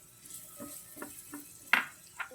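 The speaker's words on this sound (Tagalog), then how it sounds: "habang ginigisa ko yung bawang" Garlic sautés in a pan for shrimp salvatore, a quiet faint sizzle broken by a few sharp scrapes and taps of stirring; no one speaks.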